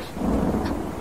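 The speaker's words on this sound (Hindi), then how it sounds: "अब ये क्या यार, तूफान कहाँ से आ गया?" A sudden thunderstorm breaks with a brief, close rumble of thunder over a wash of rain, loud and alone.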